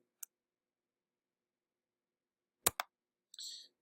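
A computer mouse gives a few crisp, close clicks as the button is pressed and released, separated by silence, with a brief soft rustle at the end.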